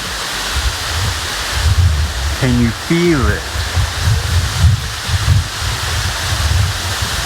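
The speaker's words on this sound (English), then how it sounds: "This is the waterfall." DeSoto Falls in Alabama roars as a broad, steady rush of falling water with wind buffeting the microphone, while a person speaks briefly over it midway through.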